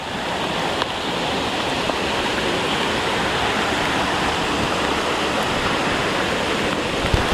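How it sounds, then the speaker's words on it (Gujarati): Rushing water from a waterfall stream at Jatashankar Mahadev during rain, a steady, loud broadband roar with no pauses throughout. "પાણીનું આ ઝરણું તમે જાય છે ને એ તમે જોવો ખાલી."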